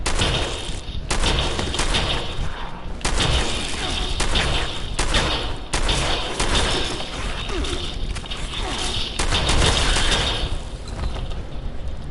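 Rapid shotgun fire in a video game, repeated blasts in quick bursts across the whole stretch, loud and dense with the mechanical clatter of reloading between shots and no talk over it.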